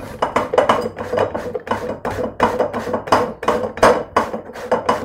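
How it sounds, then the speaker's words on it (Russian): Potatoes grated by hand for a potato casserole, with steady rhythmic rasping strokes, loud and close, repeating about twice a second with no talk. "Трем картошку."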